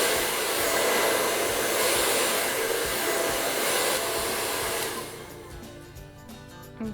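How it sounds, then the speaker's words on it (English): A hair blow dryer running on its cool setting during a basic blowout, giving a steady, loud, close whoosh of air that drops away and quietens near the end. "you're gonna put the blow dryer on cool"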